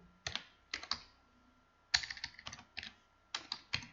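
Someone types a code on a computer keyboard in short bursts of crisp key clicks separated by brief pauses, close and clear with no talking.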